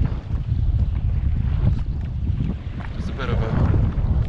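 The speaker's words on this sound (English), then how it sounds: "It's a bit of a windy westerly ride out" A boat heads out to sea on a windy westerly day, with heavy low wind buffeting and engine and water rumble roaring continuously close to the microphone.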